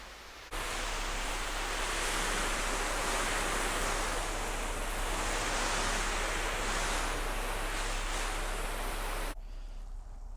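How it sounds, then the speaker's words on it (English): Garden hose blasting water onto an oilcloth tarp, a steady loud broadband hiss and spatter that runs almost the whole time without a break, then cuts off near the end, with no talking. "I've been blasting the tarp for a few minutes now with the hose"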